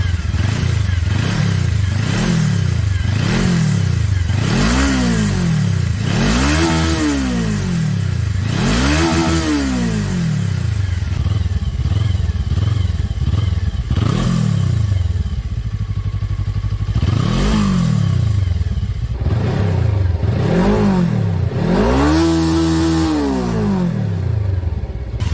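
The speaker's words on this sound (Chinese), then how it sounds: "发动机的运行声音呢？" A Haojue TR300 motorcycle engine revs repeatedly, sharp rising and falling blips in a steady rhythm close by, loud throughout with a brief idle lull midway and no talk.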